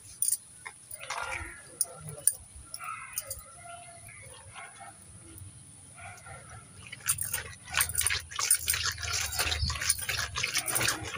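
Fish pieces rubbed with salt are washed in water by hand for a fish curry. Soft, close splashes and drips come intermittently and grow busier toward the end, with no talk.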